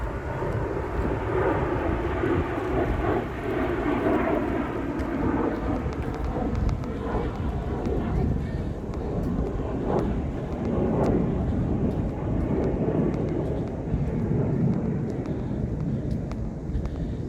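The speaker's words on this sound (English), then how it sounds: "Oh, there goes Jet." A jet airplane passing overhead makes a loud, continuous, broad roar that fills the whole stretch with steady rumbling and no one speaking.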